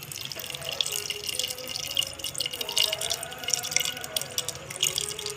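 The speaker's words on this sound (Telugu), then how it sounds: "మళ్ళీ నేహారిక ఒక అరచెంబు దాకా వాటర్ పోస్తుంది" Water pours steadily into cooking juice in a kitchen, a continuous close splashing and trickling stream with dripping texture throughout.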